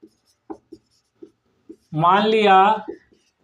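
Pen strokes scratch on paper in short separate taps during a Hindi maths lesson on quadratic polynomials, followed by a teacher's voice speaking briefly, then more faint pen marks.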